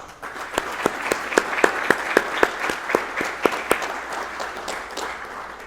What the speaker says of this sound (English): Please join me in giving the award recipients a round of applause.